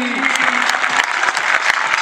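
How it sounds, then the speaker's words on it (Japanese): Audience clapping to welcome a company president at a sports club event, a brief, steady round of applause heard close. "どうぞ大きな拍手でお受けください。"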